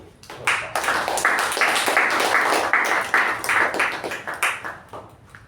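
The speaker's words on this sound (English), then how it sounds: "So round of applause to" Audience applause at a Toastmasters club meeting, a swelling round of clapping from a small group that builds quickly, holds, then thins out into scattered claps toward the end.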